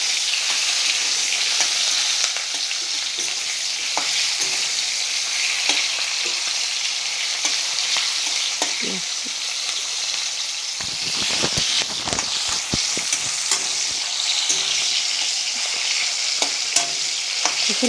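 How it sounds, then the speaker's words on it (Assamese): Large onions are half-fried and stirred in hot oil in a home kitchen pan, making a continuous loud sizzle with scraping stirring strokes and bursts of crackling near the middle. "ডাঙৰ পিঁয়াজখিনি আধা ভজা কৰি ল'ম।"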